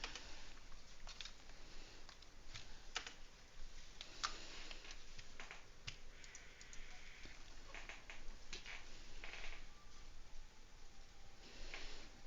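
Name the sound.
typewriter text noise in the video game Final Fantasy XI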